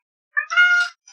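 A house cat gives a single short, clear meow nearby, rising then holding briefly against silence, with a faint trailing chirp at the end.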